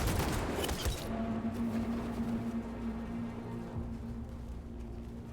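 A dense fusillade of gunfire is opened on protesters in the video game Detroit: Become Human: a loud burst of rapid shots that cuts off after about a second, leaving a low hum and faint echoes.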